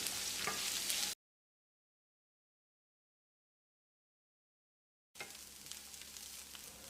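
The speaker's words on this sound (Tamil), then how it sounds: "வெங்காயத்தை கண்ணாடி பதத்துக்கு வதக்கினா மட்டும் போதும்." Steady sizzling of onions sautéing in a pan, close and hissing, broken by a few seconds of complete silence before the sizzle resumes.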